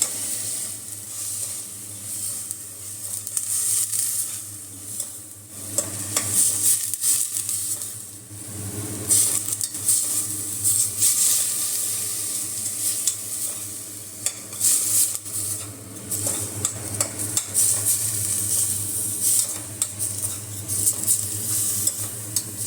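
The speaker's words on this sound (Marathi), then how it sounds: "आता आपण कांदा घालून घेऊया जो आपण किसून घेतले होते दोन मोठे कांदा चांगला परतून घ्यायचा आहे" Grated onions sauté in a pan with a continuous sizzle while a spatula stirs and scrapes repeatedly, giving clustered clinks and rustles over the steady frying for a long stretch without speech.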